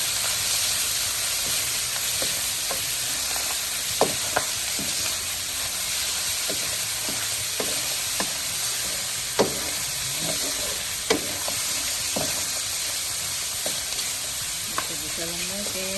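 Onion and tomato sauté in a hot pan for ginisang pechay, a steady sizzle and hiss with scattered clicks and pops of a spoon stirring, while a voice talks faintly in the background.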